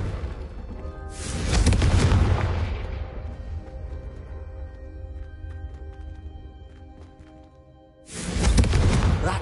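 Confringo blasting spell explosions in Hogwarts Legacy, two loud booming blasts, the first with a long rumbling decay and the second striking near the end, no talk.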